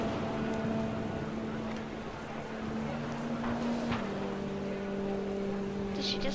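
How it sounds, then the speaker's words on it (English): Heavy rain pours down steadily in the video game What Remains of Edith Finch, a dense continuous hiss with low tonal hum and occasional louder drops, no voices. "Rain came down in buckets then"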